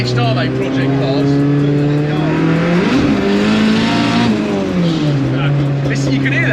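A 500bhp Mk2 Ford Escort Cosworth drives hard, its engine droning loudly and steadily with pitch rising and falling, wastegate chatter escaping from the side, while people talk inside the car.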